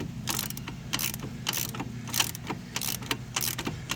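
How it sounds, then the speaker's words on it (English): Ratchet wrench clicking in repeated short bursts while nuts on a Suzuki Forenza 2.0L engine and knuckle assembly are tightened with a 17 mm socket, close and steady with a low engine-bay hum beneath. "I'm just holding this with a 17 and tightening with a 17 on this side"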